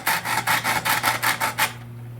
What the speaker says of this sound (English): just file some notches into the carbon rod